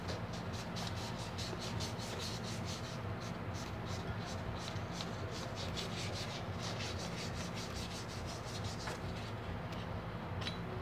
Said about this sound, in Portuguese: Aí vamos lixando que chega.